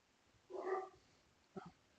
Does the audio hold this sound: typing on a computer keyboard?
no